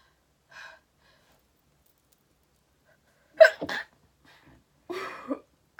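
A single sharp sneeze bursts out after a faint breath, followed a second later by a shorter throaty burp-like sound, both close and loud against an otherwise quiet room.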